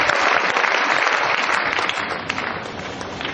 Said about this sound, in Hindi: आज अगर आप इनके लिए तालियां बजाते हो